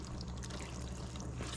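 Water is poured into a pot of rice being cooked with cassareep, a steady close splashing stream that runs for the whole short stretch with no talking.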